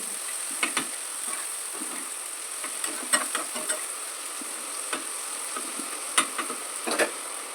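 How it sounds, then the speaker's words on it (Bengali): Tomatoes fry in hot oil with a steady, close sizzle, broken by light scattered pops and spatters and the scrape of stirring throughout; no voices. "টমেটো যখন তেলে ভাজা ভাজা হবে টমেটো থেকে তেল ছেড়ে দিবে"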